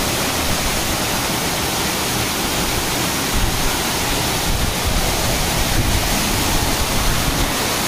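A steady, roaring rush of waterfall spray at Garden of Caves in Cherrapunji, Meghalaya, dense broadband spray noise that stays loud and unbroken throughout, close to the listener.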